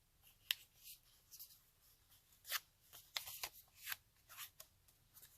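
A sheet of paper is folded by hand for a junk journal, giving soft crinkles and sharp creasing swipes in irregular bursts, close and quiet, with no talking.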